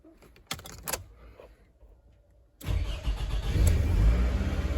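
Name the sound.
2002 Toyota Alphard car engine starting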